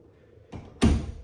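A white oak pantry door on gold hinges in a double-wide home opens with a soft click, followed by a louder knock as it swings against its stop; the room is otherwise quiet.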